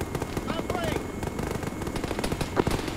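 Rapid automatic gunfire crackles nonstop in the military video game Arma 3, dense and fairly loud, with shouted voices mixed in.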